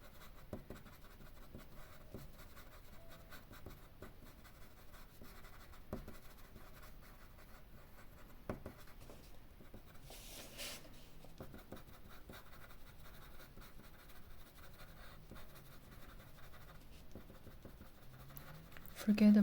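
A pencil makes soft, faint scratching strokes on paper while copying a Chinese literati mountain landscape, with light intermittent scrapes and taps at an uneven pace and a quiet voice talking at times.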